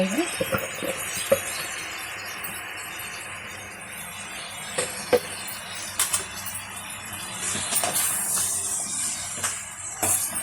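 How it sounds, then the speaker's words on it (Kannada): Chopped radish and radish greens are stirred in a pan, giving soft scraping and intermittent clinks of a utensil against the pan over a faint low sizzle, fairly quiet and close. "ನಿಧಾನಕ್ಕೆ ಕೈ ಆಡಿಸ್ಕೊಳ್ಳೋಣ."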